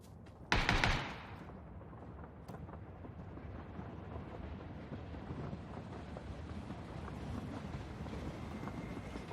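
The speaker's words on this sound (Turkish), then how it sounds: "Abi yetmiyormuş gibi tren geliyor sürekli olarak ya." A train rolls past in the PUBG video game on the Vikendi map, a sharp burst at the start followed by a steady, low rumbling roar of wheels and carriages that continues throughout, faint and distant.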